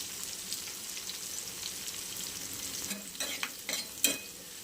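Chilli and garlic, with curry leaves and turmeric, sautéing in a pan for a potato stir-fry: a steady soft sizzle throughout, with a few louder stirring scrapes and clinks near the end.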